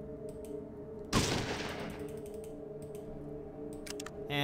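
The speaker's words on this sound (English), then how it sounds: "I don't have my plasma weapon, so we're stuck using our shotgun" A shotgun firing in a Fallout video game: one loud, close blast that decays into a rumbling tail, set against a steady game ambience with faint clicks before and after.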